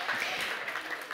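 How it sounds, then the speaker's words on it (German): Brief, fairly quiet applause from an audience at a German electric-mobility event, dense clapping heard from a distance. "An dieser Stelle darf ich um einen herzlichen Applaus bitten"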